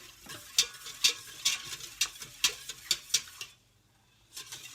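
Parmesan cheese and butter whisked into polenta in a pot, a steady series of close, sharp scraping strokes with a brief pause before the stirring resumes.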